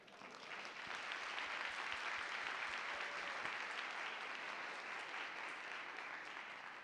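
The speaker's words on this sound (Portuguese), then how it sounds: "Obrigado pelas palmas, obrigado por essa recepção tão calorosa." Sustained audience applause fills a hall at a literary festival in Curitiba, a dense steady clatter of many hands that swells in the first second and carries on evenly throughout.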